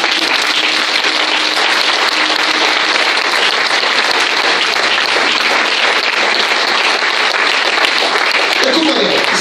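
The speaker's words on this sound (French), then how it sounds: "Acclame très fort Jésus." A church congregation cheers and applauds for Jesus at a worship service, a dense, continuous wall of clapping and crowd noise that holds steady throughout, with voices mixed into the din.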